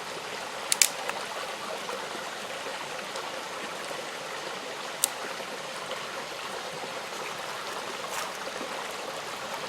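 A creek flows steadily beside a campfire site, its constant burbling wash filling the scene at moderate, even loudness, broken only by a couple of brief sharp clicks.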